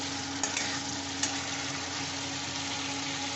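Ingredients for a bhetki fish dish sauté in a pan with a soft, steady sizzle and a couple of faint stirring clinks, quiet and even throughout.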